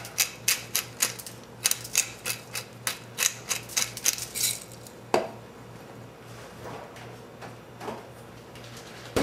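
A pepper grinder cranks out ground pepper in a run of about a dozen quick, crisp, evenly spaced clicking turns, close and distinct, before falling quiet.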